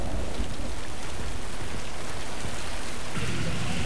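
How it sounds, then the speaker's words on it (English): Steady rain falls in the video game Killing Floor, a dense, even hiss that fills the whole stretch at constant loudness, with no voices over it. "I like looking at the rain a little bit here."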